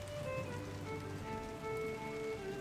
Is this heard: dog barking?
no